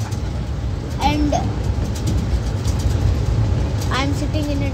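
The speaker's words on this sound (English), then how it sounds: "I'm sitting in a train." Steady low rumble and rattle from inside a moving train, continuous throughout, with a few brief voices and someone speaking over the noise.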